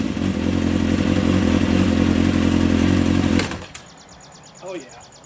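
A motorcycle idles on its kickstand with the rear wheel spinning, a loud steady engine drone that suddenly cuts off, leaving a quieter whir and faint clatter.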